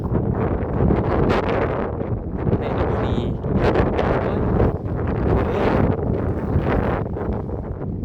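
Strong gusts of wind buffet the microphone on a foggy mountain, swelling and dropping in loud rushes, while a voice speaks briefly.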